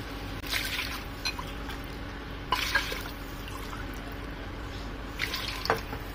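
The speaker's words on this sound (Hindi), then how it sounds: "इसलिए हमने इसके अंदर 3 गिलास यानी कि दाल से 3 गुना पानी डाला है" Water is poured into a pressure cooker holding toor and chana dal, a soft splashing trickle with a few brighter bursts of pouring against a steady low background hum.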